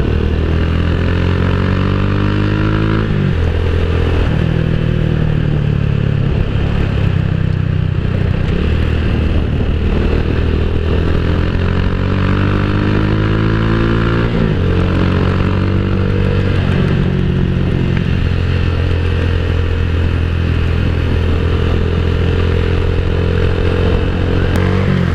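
A motorcycle engine runs close by, a loud steady drone with repeated rev swells that rise and settle, plus some clattering in the background and no talk.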